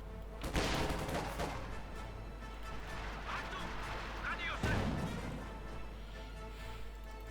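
Light artillery and mortar fire in the World War II strategy game Company of Heroes 2 lands as two heavy booming blasts, one early and one midway, with someone talking steadily over the battle noise.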